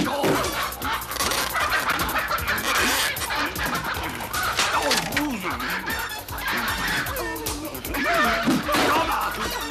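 Rooster clucks and squawks in a busy, cluttered cartoon scene with music and voices, the fowl calls rising sporadically throughout.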